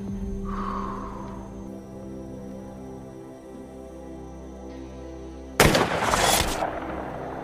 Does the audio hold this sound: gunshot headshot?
yes